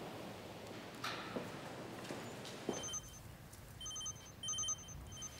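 Telephone ringing in a Korean drama scene, a repeated electronic ring pattern that starts partway through after some quieter noises, fairly faint, with no talk.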